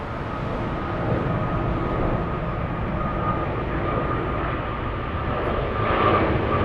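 A United Boeing 777-200ER takes off at Frankfurt airport, its engines a loud, sustained broadband roar that holds steady and swells slightly near the end, heard alone without voices.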